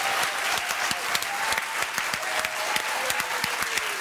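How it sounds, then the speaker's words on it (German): Studio audience on MDR's TV comedy show Comedy mit Karsten applauding steadily, a dense wash of clapping that holds at an even, loud level from start to finish with no talk over it. "Einen großen Applaus bitte nochmal"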